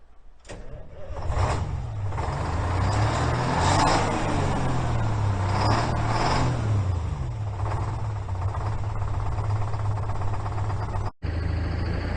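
Old Ford truck known as the Screaming Ford being driven, its engine running steadily and loud throughout with a low droning rumble and rising, wavering pitch as it moves, with a brief cut near the end.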